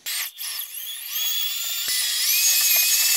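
A power drill with a mixing paddle churns a batch with water, a steady high whine that holds close and loud throughout, with no voices.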